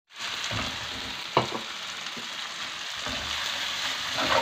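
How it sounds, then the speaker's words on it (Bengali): Mustard paste and tomato sizzle steadily in a hot pan on the stove while being stirred, with a continuous frying hiss broken by a few scraping clinks of the spatula. "সরিষা বাটা দিয়ে আমরা 30 সেকেন্ডের মতো চুলায় নাড়াচাড়া করব।"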